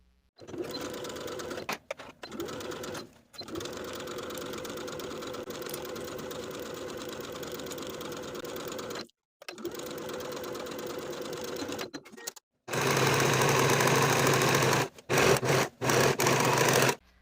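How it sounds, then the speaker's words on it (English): A sewing machine stitches the side seams of a vintage skirt, humming in long continuous runs broken by short pauses, with a louder, harsher burst near the end. "Then I'll sew both of my side seams from the top to the bottom with a 1/2 inch seam allowance"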